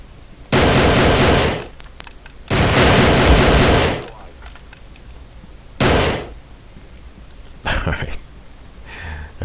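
Loud bursts of a door being breached in the tactical shooter SWAT 3, two long crashing blasts followed by shorter bangs and a sharp crack, close and heavy, with no talk over them.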